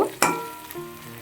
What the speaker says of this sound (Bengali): গাজর বিনস তারপর মটরশুঁটি সমস্তটা ভেজে নিচ্ছি